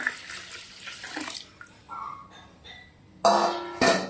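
Fresh water pours and splashes in short bursts, with quieter gaps between, ending in two louder gushes close by.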